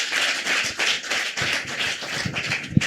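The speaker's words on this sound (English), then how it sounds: "Put your hands together and clap for her." Audience clapping for a woman at a live Sabbath afternoon business gathering, a steady patter of many hands in uneven bursts, moderately loud and sustained with no talking over it.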